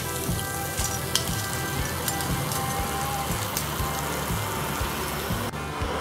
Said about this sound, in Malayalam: ഇനി നമുക്ക് എണ്ണയിൽ നിന്ന് വറുത്ത് ഒരു പ്ലേറ്റിലോട്ട് മാറ്റാം.